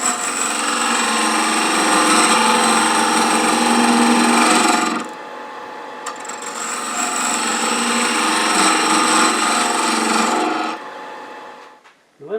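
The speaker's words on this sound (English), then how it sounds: "Now just turning a bead. So we're riding the bevel." Spindle on a wood lathe spun at roughly 1,000 to 1,600 rpm while a bead is cut, the tool riding its bevel: a steady, dense scraping hiss in two long passes split by a short pause.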